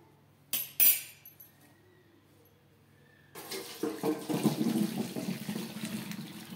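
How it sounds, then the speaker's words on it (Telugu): Water from boiled cauliflower poured through a strainer in a home kitchen, two sharp metallic clinks first, then after a quiet gap a loud splashing, trickling pour that runs to the end. "ఈ వాటర్ అన్నీ కూడా ఒక స్ట్రైనర్లోకి మొత్తం కూడా వడగట్టుకోవాలి"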